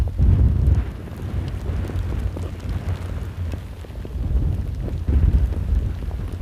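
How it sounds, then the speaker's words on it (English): Heavy rain and gusting wind at Amsterdam airport make a steady, dense roar with deep rumbling surges, loud and close, with no talking. "just hear, listen to that rain"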